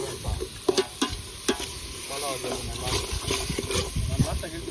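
Ginger garlic paste and chicken fry in an outdoor village-style gravy while being stirred, giving a loud close sizzle with sharp scraping knocks from the ladle. A person talks over the cooking.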